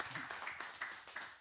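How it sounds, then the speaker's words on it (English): Scattered audience claps after a speaker's talk at an event, a short run of distinct individual claps with uneven rhythm, fairly faint and thin rather than a full ovation. "Round of applause, man."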